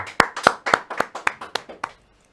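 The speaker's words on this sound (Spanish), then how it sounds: "un aplauso para Tavi, por favor" A small handful of people clap for a few seconds at close range, about eight sharp, uneven claps that trail off into silence, with no voices over them.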